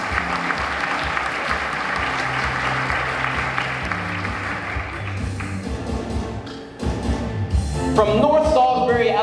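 An audience at a teacher of the year celebration gives a teacher a steady round of applause. Thumps and a rising musical flourish come in near the end.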